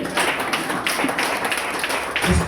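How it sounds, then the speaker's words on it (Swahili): A worship congregation claps together in church, a dense, steady patter of many hands that runs throughout at even loudness with no one speaking. "Pigia makofi mazuri."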